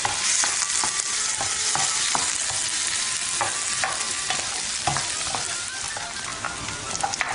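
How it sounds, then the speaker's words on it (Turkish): Onions fry until translucent for a rice börek filling, making a dense, even, crackling sizzle with spattering pops and steady stirring, loud and close for the whole stretch. "Artık soğanımızı ilave edebiliriz. Şeffaflaşma kadar kavuruyoruz."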